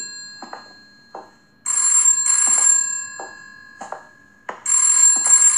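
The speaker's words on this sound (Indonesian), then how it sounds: "Oke, sekarang bunyi telepon lagi." An old telephone rings in the horror game Headaches, sounding loud bursts of bright electric bell ringing separated by pauses filled with faint clicks and thuds, with no talking.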